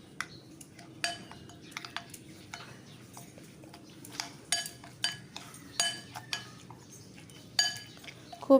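Semolina being mixed with yogurt, salt and water in a bowl for rava idli, a series of sharp spoon clinks and taps against the bowl at an uneven pace over a quiet background, close, no voices.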